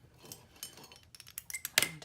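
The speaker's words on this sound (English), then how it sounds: "I'm going to take some little scissors" Small metal clicks and snips close by, a quick scattering of light scissor handling sounds growing sharper toward the end.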